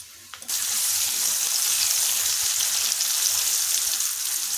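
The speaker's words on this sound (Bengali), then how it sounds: "অর্ধেক পেঁয়াজ লম্বা লম্বা করে কেটেছি, এই তেলে ভেজে নিচ্ছি।" Halved onions sliced into long strips hit hot oil with salt, bursting into a sudden loud sizzle that holds as a steady, close, bright hiss.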